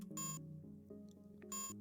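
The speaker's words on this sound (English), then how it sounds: "The light goes dark and you no longer notice the high-pitched beep." High-pitched electronic beeps in the Space Quest II video game, two short bursts over a steady low game tone, clear and close with nothing else in the mix.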